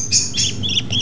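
Hungry English budgie chicks, about two and a half to three weeks old, chirp in several short, high, bright peeps close by.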